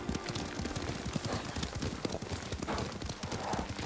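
Horse hooves while riding in the video game Ghost of Tsushima, a fast, even clip-clop of hoofbeats close by under a steady layer of game background noise.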